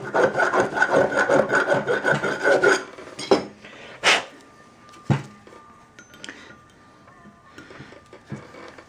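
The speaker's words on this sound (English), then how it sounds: "do just a little bit more clearance filing" Hand file rasping back and forth on a Datsun truck kingpin part for clearance, with a dense rhythmic scraping run for about three seconds followed by scattered clanks, taps and light handling noises.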